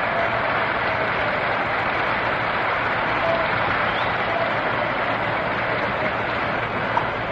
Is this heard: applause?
yes